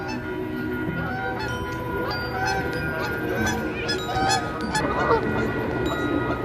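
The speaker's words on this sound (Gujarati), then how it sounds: "આ બતકોનો અવાજ સાંભળો, જુઓ કેવો અવાજ છે." Ducks calling on a cold lake at night in Waterloo Park, with repeated nasal honking calls over a steady outdoor background hum.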